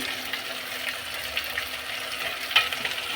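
Ingredients for chicken curry sautéing in a pan, with a soft, continuous sizzle and occasional stirring scrapes close by, fairly quiet and without talk.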